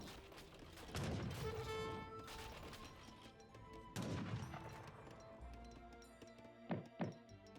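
Light cavalry firing guns in an Age of Empires 3 battle against Naginata riders: heavy bursts of gunfire and crashing impacts come in waves, with two sharp shots near the end amid the clatter of combat.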